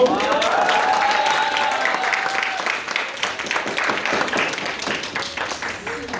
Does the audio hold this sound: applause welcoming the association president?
yes